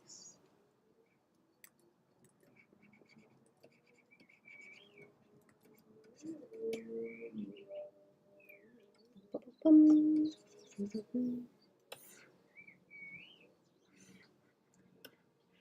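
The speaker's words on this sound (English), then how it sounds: "I've missed hearing the birds outside," Soft, scattered bird chirps drift in through an open window from a distance, with occasional low talking and a few thuds nearby.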